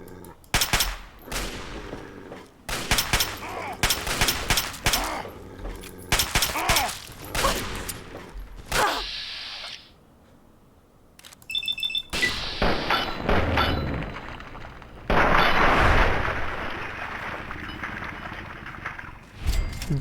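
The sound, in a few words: hunting rifle gunfire in video game Fallout 3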